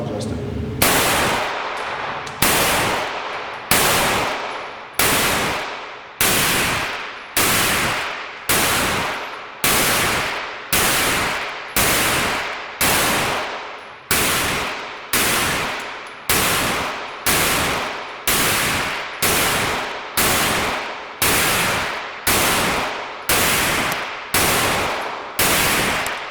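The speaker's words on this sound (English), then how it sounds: "I'm aiming at the 2 and then shooting at the 6" A CZ Scorpion fires shot after shot at a target in a steady, evenly spaced string of loud, sharp reports, each one decaying quickly before the next.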